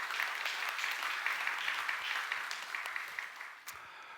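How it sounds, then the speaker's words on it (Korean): Church congregation applause during a Sunday worship service, a steady, moderately distant wash of clapping in a reverberant room that continues evenly and tapers slightly at the end. "감사의 박수 하시겠습니다"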